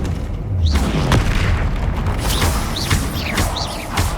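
Spell explosions and magical blasts from Hogwarts Legacy on PS5 boom in a dense, steady roar of combat, with sharp whooshing bursts cutting through every half second or so and no pause.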